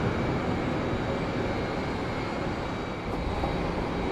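A British Airways Airbus A319 at London Heathrow gives a steady, broad jet roar heard from a distance, with a faint high whine over a constant wash of noise.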